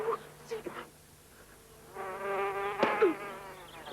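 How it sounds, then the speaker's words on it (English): A bee buzzes close by, its sustained droning hum rising and wavering in pitch toward the end, with a few faint thuds before it. "Get the bee away! It's a killer bee, Pop!"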